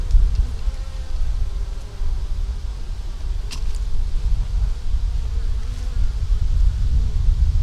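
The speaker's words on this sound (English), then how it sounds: "Got bees on the bottom." Honey bees buzz around an opened hive in a dense, continuous drone close by, with occasional louder passes of single bees.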